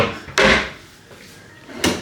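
A wooden drawer in a Disney Pop Century Resort hotel room slides open or shut, giving two separate broadband wooden scrapes and knocks, the first near 0.4 s and the second near 1.8 s, close and moderately loud in a quiet room.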